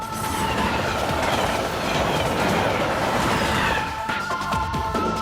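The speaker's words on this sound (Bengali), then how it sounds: "ওই দেখো ট্রেন আসছে" A train rolls past close by, a loud continuous rumble with clattering wheels and a squealing tone throughout, easing slightly near the end, with no voices over it.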